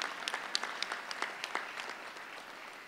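Audience applause at a university commencement ceremony, a faint, distant patter of scattered clapping with a few sharper claps standing out, thinning toward the end.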